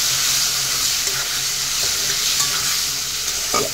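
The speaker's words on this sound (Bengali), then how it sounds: "আবার একটু কষিয়ে নিচ্ছি" Ground cumin and chilli paste with turmeric being sautéed in a pan, a steady close sizzle with faint stirring scrapes and a few soft clinks throughout.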